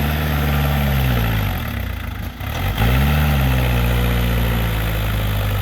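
A steady, loud tractor engine idles close by with a deep low rumble, dipping briefly mid-way before settling back to a constant drone.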